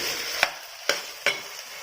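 Chicken pieces are stirred with onion and ginger-garlic paste masala in a pan, three sharp spoon scrapes over a soft, steady sizzle, close and fairly quiet.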